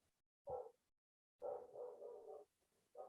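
A dog barks upstairs in a house: one short bark, then a longer run of barking, then another brief bark, all fairly close and loud with no voices over them.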